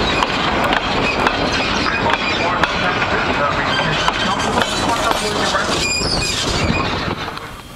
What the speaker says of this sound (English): We board the train at Lahaina in Lahaina, Maui, Hawaii